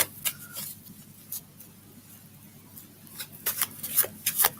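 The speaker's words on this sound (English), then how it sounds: "Get these cards shuffled." Tarot cards shuffled by hand in a quiet room, giving soft intermittent riffling and rubbing bursts with short crisp flicks, closer and busier toward the end, with a low steady hum beneath.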